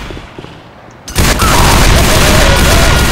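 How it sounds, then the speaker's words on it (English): Gunfire in Left 4 Dead 2 erupts suddenly into a dense, loud roar of overlapping shots and booms that carries on steadily to the end. "Hey, let's stop shooting each other, please!"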